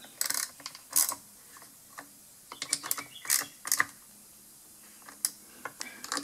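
A threaded part being screwed down and snugged on a Husqvarna weed trimmer during fuel-system repair, producing close, rapid ratcheting clicks and small mechanical ticks in irregular bursts.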